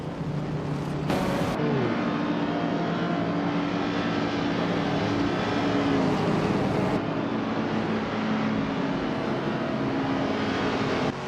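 Racing cars in a racing game surging off the start line, a dense, loud continuous engine roar with rising tones and sharp bursts of noise, sustained throughout without speech.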